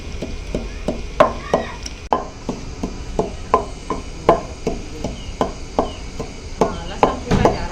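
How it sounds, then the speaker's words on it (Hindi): Garlic pounded in a mortar for a home-cooked village meal, a steady run of sharp, evenly spaced thumps, close and fairly loud, with no talking. "लहसुन कूटा जा रहा है।"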